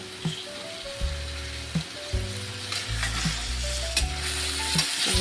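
Beetroot stir-fry being stirred in a pan with coconut oil, a steady sizzle broken by repeated scraping strokes of the spoon against the pan, close and fairly loud, with no talking.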